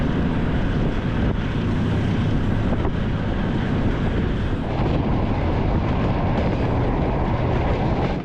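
Inside a long-distance sleeper train crossing from Kazakhstan toward Kyrgyzstan, a constant loud low rumble and rushing roar of the moving carriage fills the cabin with no let-up.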